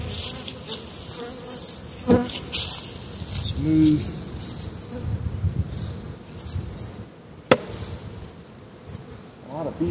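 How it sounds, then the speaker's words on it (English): Dense buzzing of many honeybees around an overwintered nuc hive being installed, steady and close, with a brief spoken remark and a sharp knock partway through. "A lot of bees coming in here."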